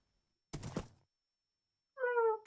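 A person imitates a cat, producing one short tonal meow after a dull thump, both fairly quiet against near silence.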